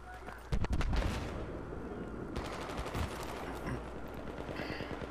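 SPAS-12 shotgun fire in a Battlefield 3 close quarters match: a loud burst of blasts early, then scattered shots and distant gunfire, with a player's voice faint underneath.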